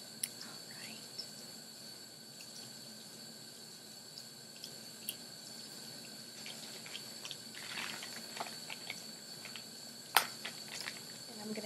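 Warm water runs from a tap over a wound during first-aid care, a quiet, continuous trickle with scattered small drips and splashes, heard close in a calm room with no talking.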